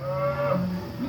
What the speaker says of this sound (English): you hear these cows bawling